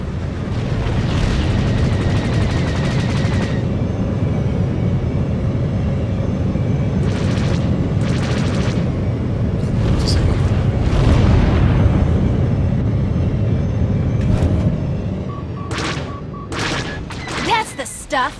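Dense video game gunfire and rolling explosions during a fight against a gunship, loud and continuous for the length of the clip, with sharp bursts and crackling near the end.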